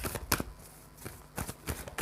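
Tarot cards shuffled by hand, giving short papery riffling bursts, one sharp flurry near the start and several more toward the end, close and fairly quiet with no talk.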